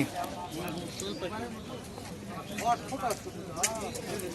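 Pigeons cooing and quail at a busy rural pigeon and poultry market, soft calls scattered through steady crowd chatter and nearby voices.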